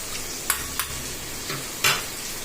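A spoon scrapes through a Nellore-style fish curry mixture in a pot in a few distinct stirring strokes, with soft clacks against the pot over a quiet low simmer.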